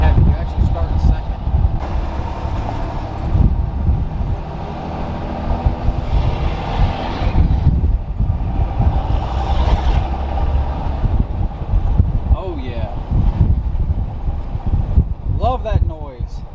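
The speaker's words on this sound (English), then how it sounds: "Love that noise. That turbo backsplash." A new truck drives along with its turbo whooshing and blowing off over a steady, loud engine and road roar. Voices occur in the cabin at times.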